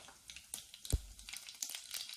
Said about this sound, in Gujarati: 1 ચમચી રઈ એડ કરી દઈશું.